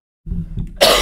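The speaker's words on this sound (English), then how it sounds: "I'm gonna cough my face" A single close, loud cough, a short rough burst that opens into a breathy, noisy expulsion.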